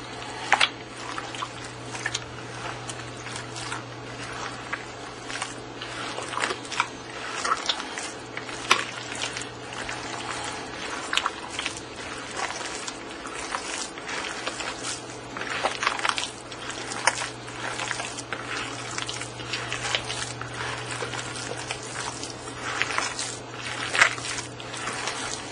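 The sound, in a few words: mixing meat loaf mixture with mushroom stuffing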